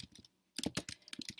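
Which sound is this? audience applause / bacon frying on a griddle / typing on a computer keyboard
typing on a computer keyboard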